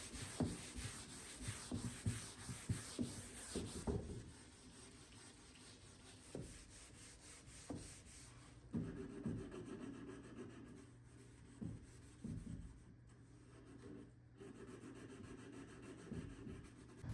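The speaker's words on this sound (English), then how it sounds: "I'll go ahead and do a scuff sand on the body and get it prepped for primer and paint" A wooden dresser body is scuff sanded by hand with 180 grit sandpaper, giving soft, repeated rubbing strokes in an uneven rhythm. The sound is close but faint, with brief pauses and handling bumps.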